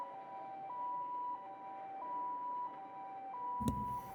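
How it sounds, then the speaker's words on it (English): A game ambulance siren wails in a steady two-tone pattern at moderate distance outside a school gate, then cuts off near the end, followed by a brief thump. "The characteristic siren stopped outside the school gate."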